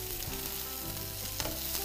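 Broccoli frying in a pan over high heat, a steady close sizzle with occasional stirring scrapes, no talking.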